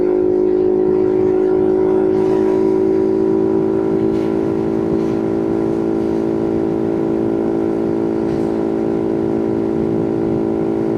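Boom Vader 125cc motorcycle, a Honda Grom clone fitted with a Nibbi carburetor, held at wide open throttle, its engine droning loud and steady with a sustained high whine throughout, no voices.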